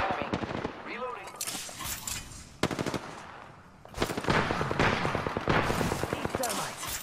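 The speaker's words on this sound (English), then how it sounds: "Opening fire on the enemy." Automatic weapon fire in the video game Apex Legends, rapid bursts of shots crackling in clusters, loud and close, with stretches of game effects and a voice talking in between.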